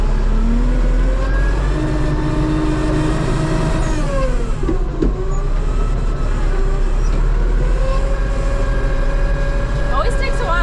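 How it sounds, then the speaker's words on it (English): A Kubota tractor engine runs steadily up close with a cold steering system, giving a constant low drone while tonal whines and groans rise and fall above it. "Always takes a while for the steering to warm up. Makes a weird noise."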